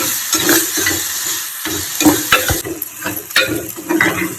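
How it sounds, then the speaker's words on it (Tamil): Onions sauté in a pan for kovakkai curry, sizzling close by while a spoon scrapes and taps against the pan in irregular stirring strokes. "இதை சேர்த்துக்கிறேன். வதங்கட்டும். நல்லா வதங்கணும்."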